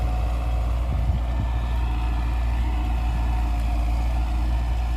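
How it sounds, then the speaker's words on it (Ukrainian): A tractor engine labours under load while ploughing a field, a steady low droning rumble that stays close and constant throughout, with no one talking. "Ну вже тяжче трактору."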